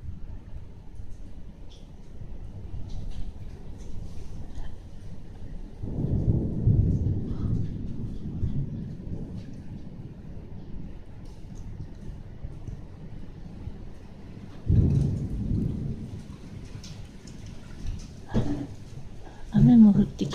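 A thunderstorm starts with low, rolling thunder that swells twice and then fades, under a steady hiss of rain. A few soft voices speak now and then.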